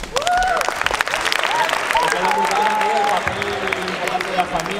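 Applause from a gathering at a Movistar Estudiantes youth basketball academy event, a sustained burst of clapping for the players' parents, with talk over it.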